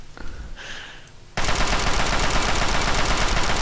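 Sustained rapid gunfire in Fallout 3 bursts in loud and dense, a continuous automatic volley aimed at a character's oxygen tank, following a quieter stretch of ambient game sound.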